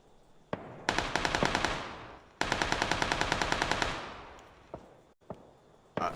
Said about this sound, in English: I'm taking shots, dude.